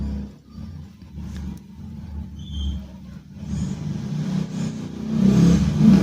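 A motorcycle engine revs with a low, throaty rumble, swelling louder and rougher toward the end.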